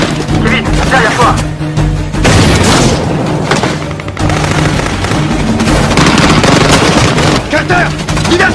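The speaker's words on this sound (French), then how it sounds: "Carter! Diversion! Grenade!" A grenade explosion in a French-dubbed action film firefight: loud, repeated booms and bursts of gunfire crowd the scene at close range, with shouting voices mixed in.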